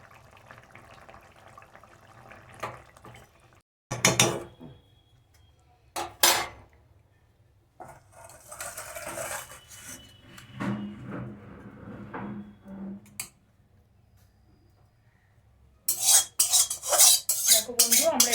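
A pot of Bengali fish curry is lifted off a stove: intermittent metallic clanks and scrapes of pot and utensils break a quiet kitchen background, followed by a louder cluster of clattering near the end.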